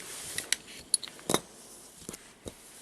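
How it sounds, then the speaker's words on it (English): Scissors snipping the cord ends of a handmade chevron friendship bracelet, a few short crisp cuts spread out and close by, with small handling rustles between them and no talk. "And now I will take the scissors and cut the ends of the cords"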